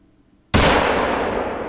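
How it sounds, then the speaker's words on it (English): A single loud rifle shot fired at a bison in theHunter: Call of the Wild, a sharp sudden crack after near silence, followed by a long rolling echo that fades slowly. "Let's shoot one of them."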